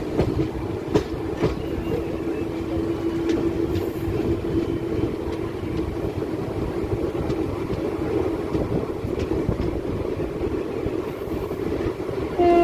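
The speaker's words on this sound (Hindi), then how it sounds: "ये है गोंडा डीजल लोको शेड से इज़्ज़तनगर लोको शेड को ट्रांसफ़र किया गया WDM 3A लोकोमोटिव" A WDM 3A diesel locomotive hauls a train past, with a steady rumbling engine drone and rhythmic wheel clatter over rail joints, fairly close and continuous throughout.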